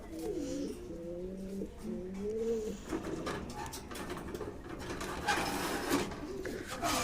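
Fancy pigeons in a pigeon loft coo in low repeated phrases early on, followed by fluttering, shuffling and faint clatter nearby, with no voices.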